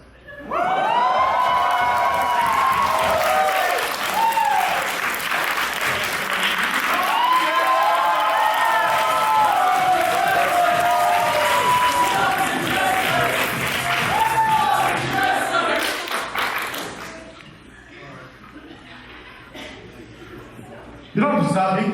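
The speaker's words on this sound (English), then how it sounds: "You don't have to stop. You can keep going. Keep cheering." A crowd at a CWF DaiCon wrestling event cheers, shouts and applauds loudly for about seventeen seconds, then the noise drops to a faint murmur before a sudden sharp sound at the end.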